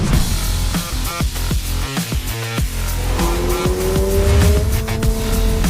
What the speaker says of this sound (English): I can put this car anywhere I want on the racetrack.